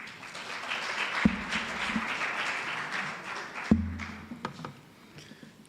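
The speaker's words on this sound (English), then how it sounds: "A round of applause, colleagues." Seminar attendees applaud at an education and training event, a dense, steady wash of clapping from a fairly distant crowd with a few louder thumps, tapering toward the end.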